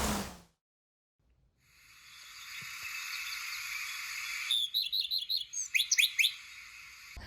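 A common redstart sings after a second of silence. It starts with a quiet, sustained whistle, then a clear run of short, repeated chirping notes that grows louder and more choppy toward the end.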